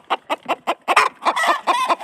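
A hen clucks repeatedly up close, a steady series of short rhythmic clucks that grows busier and more insistent toward the end, with no talking.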